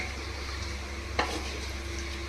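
Biryani being mixed in a kadai, a steady soft sizzle with scraping stirs and one brief sharp clink of the spoon against the pan midway, no talking.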